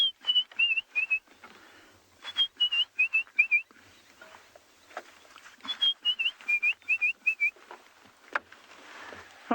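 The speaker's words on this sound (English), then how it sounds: "You can also hear the white-browed scrub robin." A white-browed scrub robin sings on a private game reserve, repeating short bright whistled phrases in clusters separated by brief pauses, over faint background rustling and distant noise.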